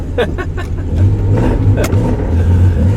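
A loud Porsche 911 RSR race car engine revs and accelerates up close, a deep rumbling roar with rising pitch and a few sharp bursts on top.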